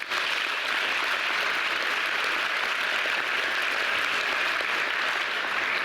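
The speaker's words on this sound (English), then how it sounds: "Give yourselves a round of applause" Sustained applause from a large commencement crowd, steady and dense clapping filling the whole stretch without pause.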